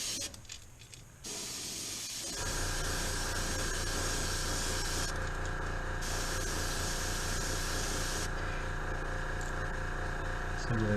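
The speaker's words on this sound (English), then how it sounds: "Test out our airbrush. And just light coats in the beginning" An airbrush lays light coats of paint on a yellow jacket crankbait with a steady, close hiss. It starts after a short gap, runs almost unbroken, and changes slightly in tone as the spray pulses.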